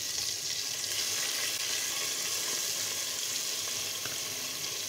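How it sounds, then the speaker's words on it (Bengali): Spice pastes and whole spices, including ginger, garlic and onion pastes, cumin, cinnamon, cloves and cardamom, fry in oil for a rui fish curry with a steady, even sizzle and faint stirring, close by and unbroken. "দিয়ে এখন আমি এটা সুন্দর করে ভুনা করে নেব"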